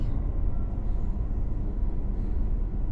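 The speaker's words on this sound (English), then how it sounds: "The tram is on autopilot. Controls are locked until we reach the end of the line." A tram moving through a cavern in the video game Lone Echo 2, a steady low rumble with constant rolling mechanical noise and no speech.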